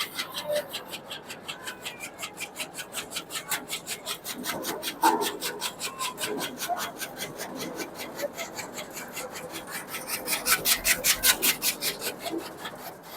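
Continuous mechanical rasping and rhythmic chopping of a chaff cutter slicing sorghum stalk fodder into 20 mm pieces, steady and close, growing slightly louder toward the end.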